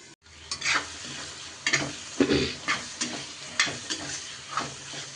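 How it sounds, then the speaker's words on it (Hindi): Tomato masala in a pan fries with a soft sizzle and hiss while a spoon stirs and scrapes it in regular strokes, close and moderately loud, with no voices. "पाँच मिनट के लिए मैं इसे भूनने देती हूँ। देखिए टमाटर गल गया है।"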